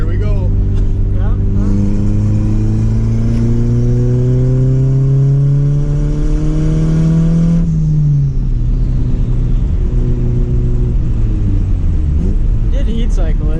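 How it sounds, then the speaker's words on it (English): A Devcon B20v turbo engine, freshly rebuilt with new rods, is revved hard on boost: a loud, close, rising wail that climbs for several seconds, drops off sharply, then revs again, with voices underneath. "this motor's got like 5 minutes of runtime and we're wailing on it"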